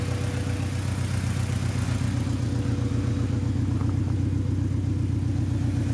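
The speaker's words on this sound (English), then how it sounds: "Fans are running." Honda Civic with a swapped B16 engine and cheap eBay exhaust idles steadily with its cooling fans running, a constant low rumble and whirring hum lasting the whole stretch with no talking.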